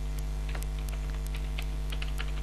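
Keys clack on a computer keyboard while someone codes an Android app, with sparse, uneven keystrokes heard close against a steady low electrical hum.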